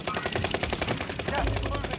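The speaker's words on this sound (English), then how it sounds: "Shots to your right." Rapid automatic gunfire from Call of Duty Warzone on the Caldera map, a fast steady string of close, loud shots lasting the whole stretch, with players' voices talking over it.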